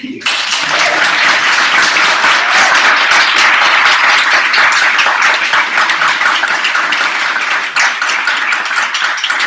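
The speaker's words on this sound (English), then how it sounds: "I think that definitely calls for a round of applause." A large crowd applauds loudly and continuously, dense clapping filling the whole stretch with a few cheers mixed in.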